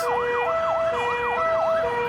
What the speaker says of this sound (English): here comes another one. This is amazing. It's a fire truck, an ambulance